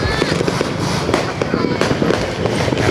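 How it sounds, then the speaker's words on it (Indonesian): Nonstop New Year fireworks and firecrackers in Manokwari, loud overlapping pops and crackles in a thick barrage, with voices faintly mixed beneath the din. "penuhi dengan petasan semua ini."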